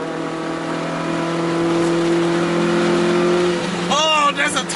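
A Honda CRX engine drones steadily up close from inside the car, then surges into a rising rev as VTEC engages near the end.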